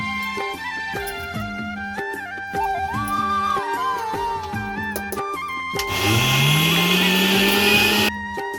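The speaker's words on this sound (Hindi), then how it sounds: "ये चने की दाल ठंडी हो गई है तो हमने इसको पीस लिया है" An electric kitchen grinder coarsely grinds cooled chana dal, a loud whirring burst near the end after a stretch of music, close and steady for a couple of seconds.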